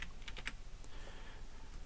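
Soft clicks from keys pressed on an editing keyboard, a quick cluster of taps early followed by a few fainter ones, close and quiet with no talking.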